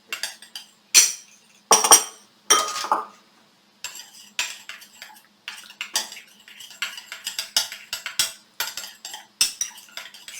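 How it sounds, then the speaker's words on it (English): Several spoons clinking against bowls while stirring separate batches of colored shredded cheese for rainbow grilled cheese sandwiches, close-up bursts of metallic scraping and taps in an uneven rhythm, no talking. "stir each of these up. Use a different spoon for each one to keep your colors distinct."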